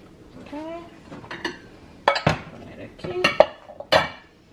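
Pumpkin cupcake batter being mixed with flour in a bowl, a utensil clinking and scraping against the bowl in several sharp bursts, close by, with a voice talking over the first part.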